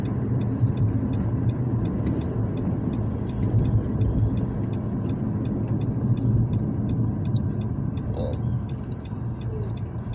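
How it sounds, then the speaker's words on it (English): Steady rumble of cars on a highway heard from inside a moving vehicle during a commute, a continuous close road drone with faint ticking and a little talk. "right now I'm going to work and I see all these cars on the highway"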